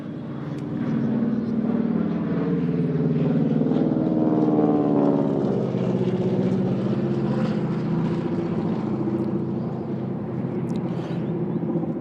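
Commonwealth Aircraft Corporation propeller trainer aircraft passing overhead at a Remembrance Day service, a loud, steady droning engine roar that swells and then slowly fades over about twelve seconds.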